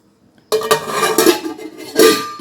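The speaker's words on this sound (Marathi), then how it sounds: "या पातेल्यावर आपण एक छोटंसं झाकण ठेवूया, म्हणजे जेणेकरून आतमध्ये पाणी जाणार नाही" A small lid goes onto a steel pot set inside a pressure cooker, giving sharp metallic clinks and clatters, loud and close, with a final ringing knock near the end.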